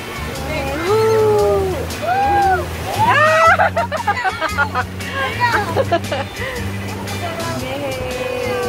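Waves slosh and splash against a boat during a ride on the water, with engine rumble underneath and people chattering and calling out over the noise throughout.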